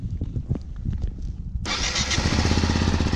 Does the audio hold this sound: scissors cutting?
no